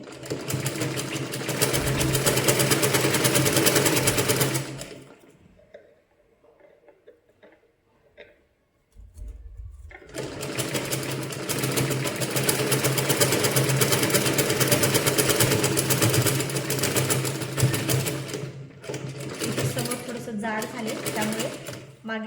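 A sewing machine stitching piping on a katori blouse runs in long, steady bursts, stopping for a few seconds in the middle before whirring on again at close range.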